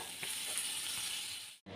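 Butter sizzles and hisses in a hot kadai, a close, steady crackling fry that cuts off abruptly just before the end.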